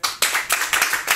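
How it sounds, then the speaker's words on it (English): An audience claps for a debater after her turn, with dense applause bursting in several quick waves that swell and fade over about a second. "Can you clap for her?"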